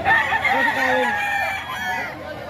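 A fighting rooster gives a loud, close crow with a rising and falling pitch contour over about two seconds, above a low murmur of background activity.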